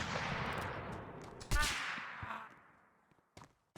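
Rapid video-game gunfire with bursts of shots and a sharp crack midway, fading into sparse single shots near the end.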